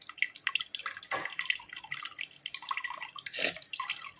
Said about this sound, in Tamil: இப்போ நம்ம ரோஸ் வாட்டர் ஊற்றிக்கலாம்